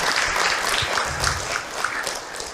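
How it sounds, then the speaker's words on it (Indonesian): Audience applause at an Islamic religious talk during Ramadan, a short burst of dense clapping heard close up and fairly loud. "tepuk tangan untuk Abi"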